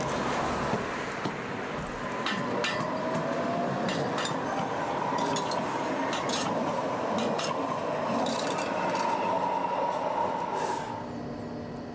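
A Dortmund Stadtbahn light rail train heard up close, a sustained rumble of wheels on track with a rising whine and scattered metallic clinks and squeals that ease off toward the end.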